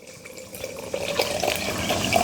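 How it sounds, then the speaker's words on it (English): Water from a tap pours steadily into glass canning jars of black beans with bouillon and lime juice, a continuous close splashing rush that builds slightly in level as the jars fill. "Then we're gonna go ahead and just top each jar with water."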